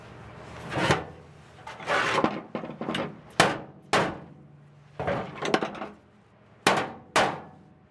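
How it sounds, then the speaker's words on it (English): A steel floor pan being hammered into place on a vehicle project: about ten separate close blows, loud, irregularly spaced metallic hits, some in quick pairs, with quiet gaps between them. "what I'm going to do is just hammer it until I can get one"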